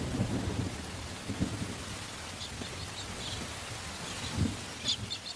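Steady rainfall hisses throughout, with low rumbles of thunder rolling in a few times, fairly distant and soft.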